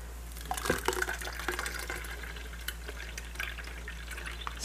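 Fruit pulp drains through a sieve during preserving, giving soft wet trickling and dripping with a few brief splashy bursts near the start, close and fairly quiet over a low steady hum.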